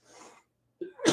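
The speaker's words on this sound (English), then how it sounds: "I'm coughing." A person coughs close by, with a soft breathy sound first, then after a brief pause a sharp, harsh burst of coughing.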